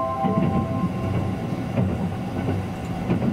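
From inside the Sunrise Izumo sleeper limited express bound for Tokyo, a low rumble with soft rhythmic rail clatter runs steadily beneath, with no voices over it.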